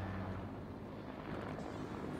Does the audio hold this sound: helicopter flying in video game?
yes